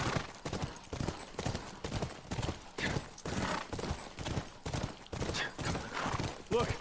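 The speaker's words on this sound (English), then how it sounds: "That's our horse." A horse in The Last of Us clops along in a steady, repeating hoofbeat rhythm, fairly close and prominent, while someone talks over it at moderate volume.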